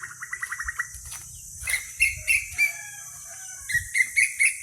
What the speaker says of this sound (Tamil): எங்கள் கோழி வாத்தெல்லாம் காலையில் எப்படி மேய்ச்சலுக்கு கிளம்பிட்டாங்க பாருங்கள்